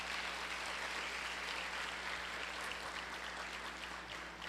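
A church congregation at a Portuguese-language family service claps loudly and steadily, a dense continuous wash of applause sustained for several seconds with a faint low hum underneath.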